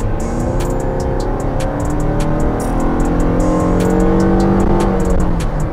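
Nissan Serena C27 minivan in sport mode accelerating hard from inside the cabin, a steady loud engine drone rising in pitch over several seconds with constant road and tire noise.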